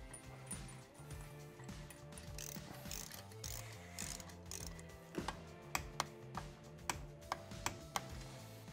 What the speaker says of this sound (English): we're gonna torque our bolt to 17 foot-pounds.